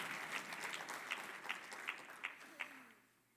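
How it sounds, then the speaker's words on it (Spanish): A church congregation claps along during a Spanish-language sermon, a fairly faint wash of clapping with several sharper rhythmic claps standing out, fading away toward the end. "Si vas a darle palmas, dáselas fuerte"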